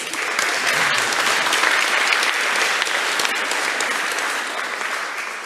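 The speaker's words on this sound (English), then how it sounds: "Big applause, guys. Big applause." Sustained audience applause fills a demo day stage event, dense steady clapping from a large crowd holding at an even loud level throughout with no speech.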